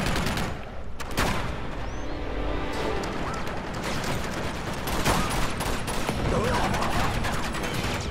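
Rapid, sustained turret gunfire in the video game Uncharted 2, a dense continuous barrage of shots with crashing impacts filling the whole stretch, loud and close, with voices talking over it.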